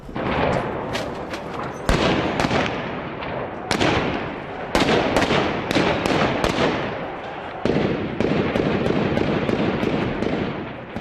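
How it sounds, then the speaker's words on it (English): Heavy gunfire from fighting between the Syrian army and rebels in a town rings out in repeated sharp bursts and single loud cracks, several seconds apart over a constant rattling din, with no talking. "the heavy gunfire showed that the rebels were still fighting back"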